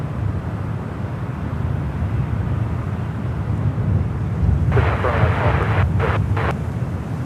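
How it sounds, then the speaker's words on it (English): US Airways retro-livery Airbus A321 jet on the move at San Francisco airport, a steady low engine rumble with wind buffeting, overlaid by brief bursts of radio chatter near the end. "On the move is that US Airways American Retro A321 could be heading over here to the ones."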